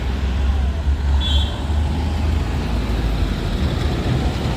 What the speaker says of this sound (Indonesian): Wih, rame truk trailer.